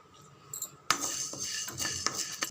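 Curry leaves are stirred as they roast in a pan, with a sudden loud scrape followed by close metallic clinks and frying crackle. It runs briefly, with no talking.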